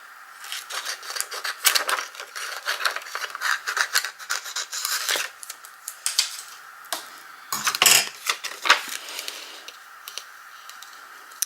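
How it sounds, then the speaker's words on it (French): Material is cut at the bottom with scissors or a blade in a series of quick, crisp snips and clicks, some in clustered bursts and others spaced apart, close and fairly quiet, with no talking. "Et je vais couper aussi en bas"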